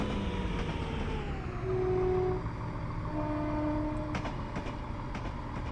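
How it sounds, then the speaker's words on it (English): A locomotive on the Glasgow Queen Street to Edinburgh route in Train Simulator 2018 gives two short, steady whistle tones over a continuous low rail rumble. "Just a whistle."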